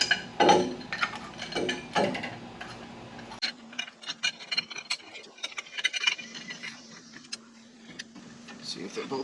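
Brake caliper pistons on a 2004 Dodge Ram 2500 pushed back in with a clamp: a run of close ratcheting clicks and small mechanical ticks, uneven in pace.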